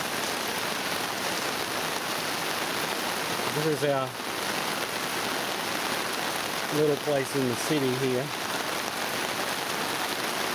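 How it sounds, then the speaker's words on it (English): Heavy monsoon rain in Pak Pun, Nakhon Si Thammarat pours steadily around someone walking outdoors, a dense even hiss throughout while someone talks briefly over it. "I'm walking out in the rain."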